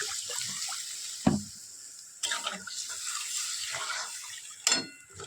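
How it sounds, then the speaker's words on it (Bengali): Water is poured into a pan of curry being cooked in a home kitchen, making a steady close splashing wash with a few sharper clatters along the way. "জল দিয়ে দিই।"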